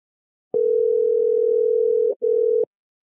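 A steady electronic ringback tone from an iPhone calling a Google Pixel 4a on Google Fi holds for about a second and a half, breaks off briefly, then resumes for a moment before stopping. No voices.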